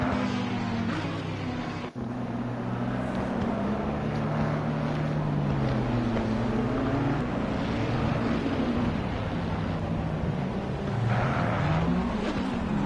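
Race cars line up in a sim racing game at Misano, their engines a continuous droning hum with shifting pitch as they roll along together, wind-like rush underneath.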